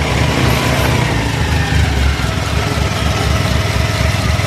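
Small kick-start scooter engine running steadily after starting, a loud, continuous buzzing idle with a fast even putter close by, no voices over it.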